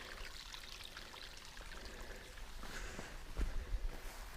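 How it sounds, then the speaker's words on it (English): A small rusty-colored creek in Algonquin Park trickles and pours steadily, a soft continuous watery wash at low level with faint splashing bumps near the end and no voices. "It's a little rusty creek."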